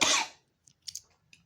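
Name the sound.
coughing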